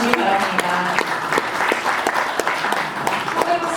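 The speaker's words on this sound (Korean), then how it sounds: "이상현 전 국무총리님께 다시 한 번 더 큰 박수 보내주시기 바랍니다." An audience at a Korean book launch event claps for a former prime minister, a loud, continuous round of applause with sharp individual claps and some crowd murmur and voices underneath.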